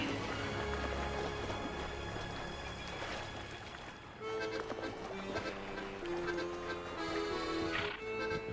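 Camargue horses, a stallion and his harem, in wetland; hooves clip-clop and horses whinny and snort at close range over a steady outdoor wash.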